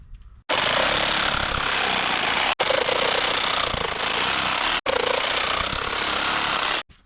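A power saw cuts PVC pipe nipples for a septic pump assembly, running loud and steady in three long passes separated by brief pauses, with no talking.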